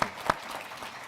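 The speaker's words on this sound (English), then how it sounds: "Please join me with a round of applause." A conference audience at an African infrastructure investment session in Kigali applauds briefly, a couple of sharper claps standing out over a short burst of moderate, slightly distant clapping.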